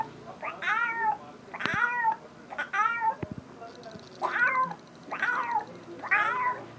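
A human voice imitates cats crying, drawn-out wailing meows repeated about six times, with a few sharp clicks between them.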